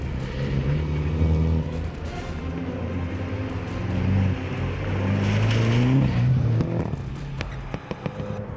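MINI John Cooper Works road car on road tyres driving hard through puddles, a steady loud engine drone with rising and falling revs and a broad wash of spray throughout, close by.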